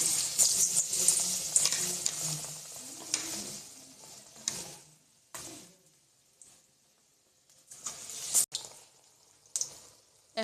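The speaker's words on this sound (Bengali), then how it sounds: "তেল গরম হয়ে গেছে, একে একে বেগুনগুলো ভেজে তুলব।" Eggplant slices fry in hot oil, giving a soft crackle and sizzle with intermittent sharper pops and bursts between quieter stretches.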